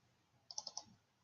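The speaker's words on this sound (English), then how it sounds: "And I'm just double clicking on everything to get it to load." A computer mouse is double-clicked twice in quick succession, four small, crisp clicks grouped in pairs, heard close but faint in an otherwise quiet room.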